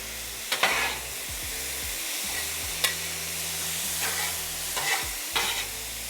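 Veggie-heavy stir fry of carrots and peppers on a Blackstone griddle for fried rice, a loud continuous sizzle near at hand, broken by several sharp spatula scrapes and clinks spread across the clip, with no voices.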